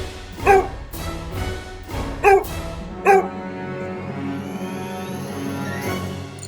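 A dog gives three loud, clipped barks in quick succession early on. A steady ambient bed with faint high tones carries on after the barks stop.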